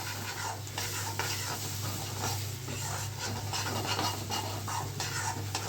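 Continuous scraping and stirring of flour roasting in a pan after milk is added while making a Monthal sweet, a steady close sizzle with rhythmic strokes over a low hum, no speech.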